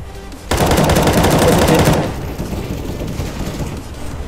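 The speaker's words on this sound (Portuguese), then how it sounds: "Nossa, errei todos os tiros." Gunfire from a CS:GO match on the Mirage map: a dense, loud stretch of rapid shots lasting about a second and a half, followed by quieter game ambience.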